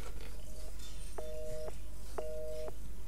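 A telephone with no signal in Resident Evil 7 gives a repeating electronic busy tone, three evenly spaced beeps about a second apart over a low steady hum.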